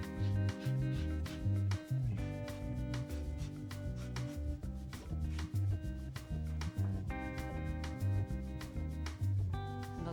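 An orange is zested with quick rhythmic scraping strokes for about ten seconds, close and moderately loud, with no one speaking.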